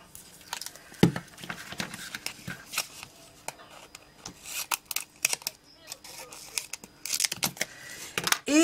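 Close-up sticky tape being pulled and torn in short crackling bursts, with rustling and handling noises between them, no talking.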